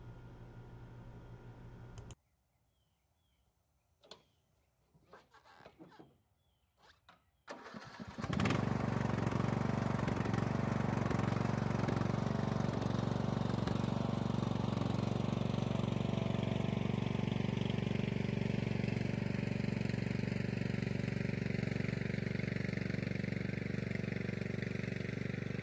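A small tractor with a hydraulic front end loader idles quietly, then its engine starts up and runs steadily loud and close for the rest of the time while it moves a boat trailer on a lawn.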